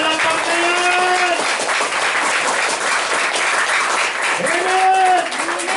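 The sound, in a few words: congregation applauding in church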